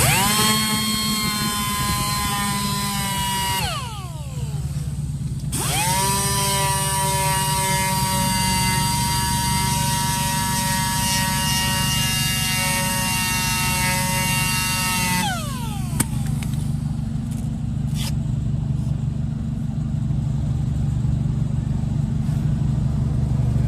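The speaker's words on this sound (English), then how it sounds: "Switch back over to the 800 grit. Just get those 320 sander marks out of here." A power sander runs steadily on a machined alloy wheel with 800 grit paper, a loud continuous whine with rising and falling pitch sweeps as the tool spins up and slows, lasting the whole stretch without talk.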